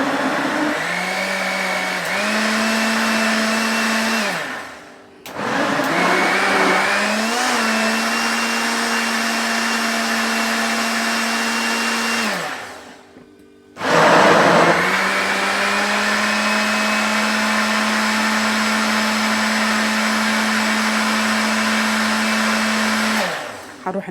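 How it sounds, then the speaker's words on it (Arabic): A blender runs loud and steady, whirring with a rising pitch as it mixes crepe batter, stops briefly twice and starts again, with no talking. "ادي حطيناهم كلهم في الخلاط وهنبدا نشغل الخلاط"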